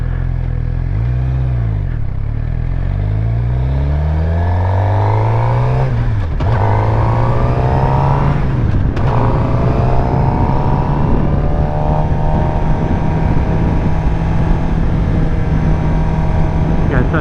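A motorcycle pulls away in first gear on a neighborhood road, its engine note rising and falling through a couple of revs before settling into a steady, close drone as it accelerates.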